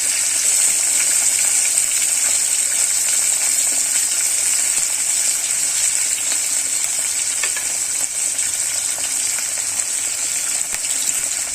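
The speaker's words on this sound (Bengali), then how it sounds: "মাছগুলো দিয়ে দিয়েছি, মাছগুলো ভালো করে ফ্রাই করে নেব" Pieces of catla fish fry in hot oil with a loud, steady, close sizzle that barely changes for the whole stretch and has no voices over it.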